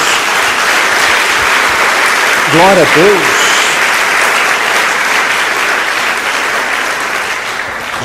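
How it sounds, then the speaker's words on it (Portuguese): A church congregation applauds steadily for several seconds, a dense broadband wash of many hands, while a voice briefly calls out a short phrase partway through. "dá uma salva de palmas ao Senhor"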